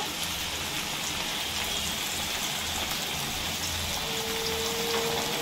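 Prawns fry on a hot tawa with a steady, dense hiss and crackle of oil, close and continuous without pause, a faint tonal hum threading in toward the end.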